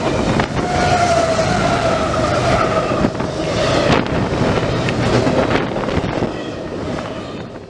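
CSX freight train Q003, combined with Q019 and its DPUs, rolls past on the Mohawk Subdivision with a steady loud rumble, squealing wheel tones and wind buffeting the microphone throughout.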